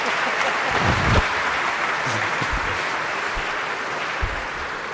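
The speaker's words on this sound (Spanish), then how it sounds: "aplaudan pues" A crowd at a political speech applauds in a steady, dense wash of clapping, moderately loud and sustained, with a few scattered louder claps and faint voices mixed in.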